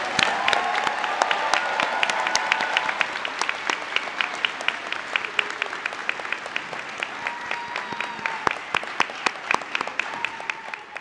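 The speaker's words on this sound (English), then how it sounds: "Let's give our graduates another round of applause" A college commencement crowd applauds its graduates with sustained, dense clapping, individual sharp claps standing out near the front and the ovation gradually thinning toward the end.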